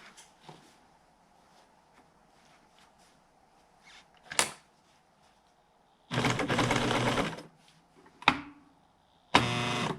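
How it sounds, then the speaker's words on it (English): Sewing machine stitching upholstery for a 1996 Ford F-350 truck seat, with faint ticks, then a two-second burst of fast stitching, a short stab and a final quick run, the machine straining through thick material. "it's like pushing the limit of the sewing machine a little bit here"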